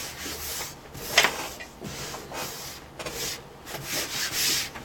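Rubbing and brushing across a desk surface while trimmed wire strands from a laptop power jack repair are cleared away; uneven swipes and scrapes come in short strokes, close up, with no talking.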